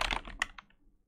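A few quick, close keystrokes clatter on a computer keyboard in a short burst, then fade out.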